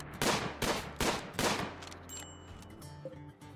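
Four loud, evenly spaced gunshots in the RimWorld video game ring out while animals are hunted, then faint clicks and small game sounds follow.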